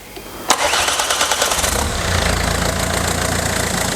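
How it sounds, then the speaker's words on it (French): A car's diesel engine is started for the first time after a timing belt replacement: a sharp click, a second of rhythmic cranking, then it catches and runs with a loud, rough idle. "Et donc maintenant on va procéder au premier démarrage."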